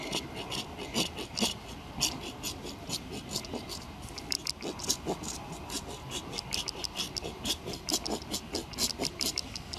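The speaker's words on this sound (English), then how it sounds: "I'll file down more." Steel rasp filing down the underside of an animal's hoof during a trim, a steady run of rough back-and-forth scraping strokes, close and fairly loud, with no talk.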